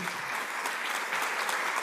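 Audience at a book event clapping for the book's collaborators, a steady, dense wash of applause from a crowd, fairly loud and even throughout with no pauses.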